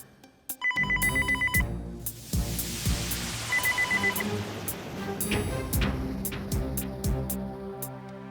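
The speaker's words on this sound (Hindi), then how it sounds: "श्लोक का फोन होगा।" A telephone rings with a repeating electronic trill, loud and close, layered over a musical backing with sharp rhythmic hits.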